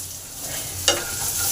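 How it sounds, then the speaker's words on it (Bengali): Chopped onion with salt fries in a pan for a Mughlai paratha, giving a steady close sizzle with a brief louder crackle and stirring scrape partway through. "এই সময় পেঁয়াজ কুচিটা দিয়ে দিলাম।"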